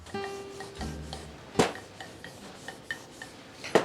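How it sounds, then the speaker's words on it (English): Sweet pastry dough rolled out with a rolling pin on a work surface for a chocolate tart, giving soft rubbing and rolling sounds with occasional light knocks, close and fairly quiet. "The chef rolls out some sweet pastry dough."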